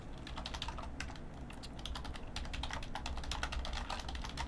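Rapid, continuous computer keyboard typing with mouse clicks, dense bursts of sharp keystrokes close to the microphone at a quiet level, no speech.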